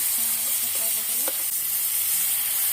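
Chopped onion and crushed garlic sizzle loudly and continuously in hot oil in a home kitchen pan, with a brief stirring scrape partway through and a faint tonal sound underneath.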